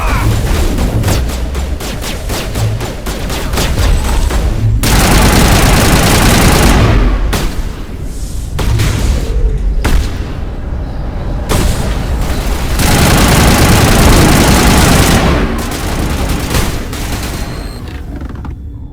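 A Mass Effect firefight in a lab: loud, rapid bursts of automatic weapon fire in long volleys, punctuated by heavy booming impacts, with brief lulls between barrages.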